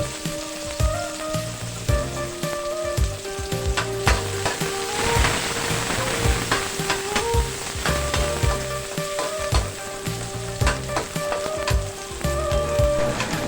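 Chopped onion and garlic sizzle steadily in a hot pan for a Filipino adobong upo, with dense, continuous frying crackle and periodic scraping clicks of stirring throughout.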